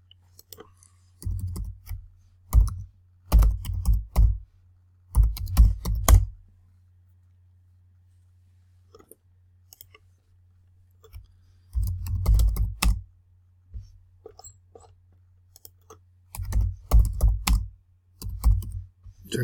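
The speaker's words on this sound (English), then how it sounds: "So when you start typing into Amazon or Etsy or eBay, it kind of, you know, tells you what people are kind of typing in." Quick bursts of keystrokes on a computer keyboard, entering a search on Amazon, come in clustered runs of clicky tapping separated by silent pauses, close and crisp.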